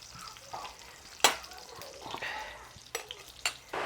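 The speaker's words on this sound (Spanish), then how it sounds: "ahora voy a dorar una tortilla" A corn tortilla frying in a pan for a rancho mole: low sizzling with scraping and stirring, a sharp clatter of a utensil against the pan, and a few more knocks.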